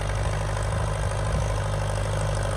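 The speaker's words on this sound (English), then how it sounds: "Running nicely there, look. That engine braking down the hill there." Ferguson TEA20 tractor engine running steadily, a loud low, even rumble with a continuous throb throughout and no talk.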